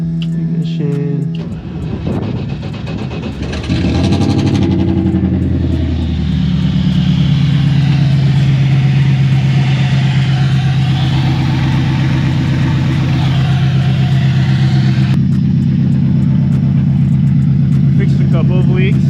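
A BMW E30 drift car cranks briefly and fires up, then settles into a steady loud idle that runs throughout, with a brief talking voice near the start.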